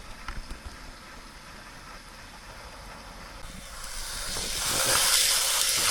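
A portable camping stove burner hisses outdoors in the Peak District, starting soft with a few small knocks and then swelling into a loud, steady rushing hiss.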